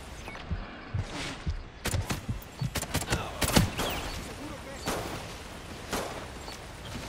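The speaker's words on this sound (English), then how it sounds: "Gunfire." Gunfire in Call of Duty: Ghosts: irregular bursts of sharp shots and cracks, some clustered and some isolated, over a rumbling battlefield background for about seven seconds.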